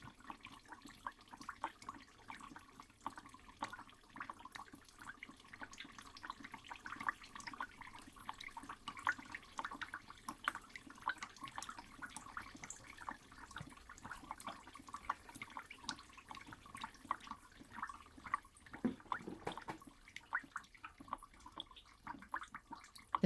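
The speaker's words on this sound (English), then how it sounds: "A fabric bag saturated with water is suspended from above, dripping droplets of clear water to the ground below." Clear water drips steadily from a saturated fabric bag hung overhead onto the ground below, a faint, continuous patter of droplets with irregular rhythm and no voices.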